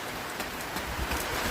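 Steady rain patters down in Kerala, a dense, even hiss of drops close around with no voices.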